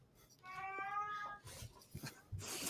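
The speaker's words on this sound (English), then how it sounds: "Maybe it's cat noises." A cat gives one clear, fairly loud meow, followed by softer shuffling and faint sounds in an indoor room.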